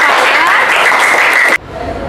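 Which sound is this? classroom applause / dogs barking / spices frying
classroom applause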